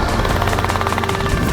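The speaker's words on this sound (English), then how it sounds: "I'm gonna take full control of this helicopter." Loud, steady rotor thrum of a helicopter fills the whole span, a continuous pulsing beat with no voices over it.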